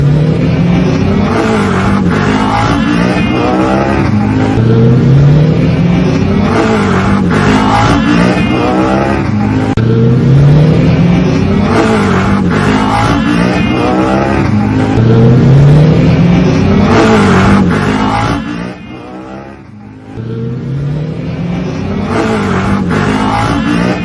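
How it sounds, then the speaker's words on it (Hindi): Motorcycles revving loudly and continuously as bikers perform stunts on a one-way road in Raipur, Chhattisgarh, engines rising and falling in repeated surges, with a brief dip near the end. "वन वे रोड पर बाइकर्स स्टंट करते हैं"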